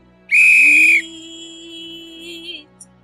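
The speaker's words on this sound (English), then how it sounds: "Terrified by the whistle-accented demands and desperate to make the shrilling stop" A lifeguard's whistle gives one loud, shrill blast lasting under a second, followed by a softer lower tone and faint background noise.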